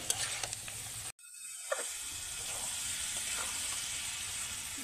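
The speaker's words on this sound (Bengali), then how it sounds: "মশলার সঙ্গে ছোলার ডালটা 3 থেকে 4 মিনিট ভালোভাবে কষে নিতে হবে।" Chana dal frying with spices in a kadai over a low flame, a steady quiet sizzle broken by a sudden short dropout, then continuing with faint stirring scrapes.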